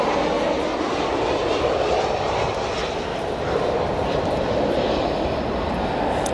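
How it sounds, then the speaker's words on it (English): A Boeing 737 descending to land at Chicago O'Hare in strong gusty winds gives a steady, loud, broadband jet roar that fills the whole stretch with no pauses and no voices. "And we have a 737 struggling here with the winds."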